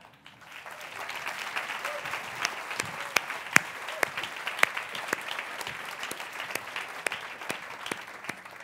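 An audience at a science-communication competition final applauds with steady clapping that holds throughout, with a few sharp, louder individual claps standing out.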